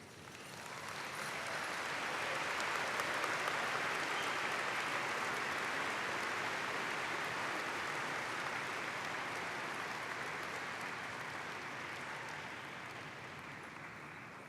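Graduates at a high school graduation ceremony stand and applaud their teachers: a long, dense roar of clapping swells in over the first couple of seconds, holds loud and steady, then tapers gently near the end.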